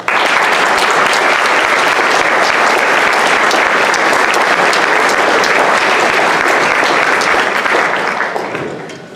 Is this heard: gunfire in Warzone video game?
no